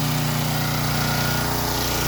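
A Champion generator powering a house and detached garage, including an AC unit, refrigerators and a compressor, hums loudly and steadily with a constant low engine drone and mechanical buzz, close and alone.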